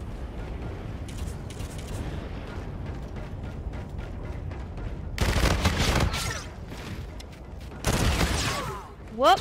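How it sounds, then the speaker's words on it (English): Gunfire bursts in the Call of Duty Infinite Warfare gun game mode, a couple of loud sharp shot clusters breaking through a quieter mix with faint talk. "Whoop, that was a sniper."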